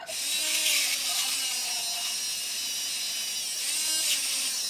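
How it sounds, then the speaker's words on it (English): An old-style dentist's drill runs at its former operating speed, giving a thin, high-pitched whine that holds steady and wavers slightly in pitch, with no talk over it. "This is the speed the dentist drill used to run at back then."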